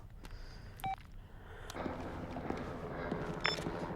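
A few short telephone dialing beeps sound from a phone in the How To Rob A Bank game, isolated tones spaced apart over soft background noise and faint clicks.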